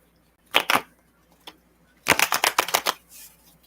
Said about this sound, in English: I have to shuffle the deck really quick